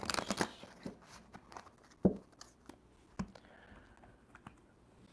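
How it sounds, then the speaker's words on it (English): A deck of cards for card pulls is shuffled by hand, giving soft, quick clicks and riffling flutters at close range in a quiet room. "I'm going to shuffle them up and get them ready for the card pulls"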